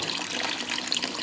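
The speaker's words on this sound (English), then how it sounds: "turn the tap water off, and now you're ready." Tap water runs steadily through a reverse osmosis filter system, a constant hiss of flowing water with no voices.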